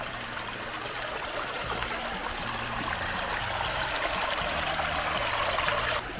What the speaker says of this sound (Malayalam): മലയുടെ താഴ്വാരത്താട്ടോ അരുവിയാണ്